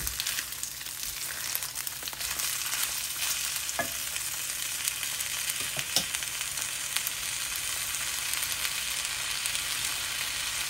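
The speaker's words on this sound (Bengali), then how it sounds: "আমি সেই চালটা দিয়ে দিচ্ছি, দিয়ে এখন আমি একটু ভেজে নিব।" Soaked pulao rice fries in a pan for a spinach pulao, a steady close sizzle running throughout with a few scraping stir strokes, and no voices.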